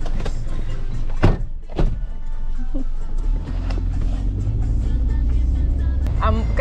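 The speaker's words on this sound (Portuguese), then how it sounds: "já passaram uns 10 carros" A car passes on a roadside near Rio Celeste in Costa Rica, its engine rumble building and swelling close by, with a couple of sharp knocks and nearby voices mixed in.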